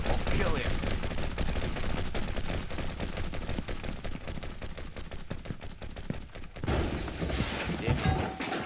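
Rapid bursts of automatic gunfire and scattered shots ring out in The Last of Us gameplay, dense and continuous, with shouting voices mixed in and a brief lull near the end.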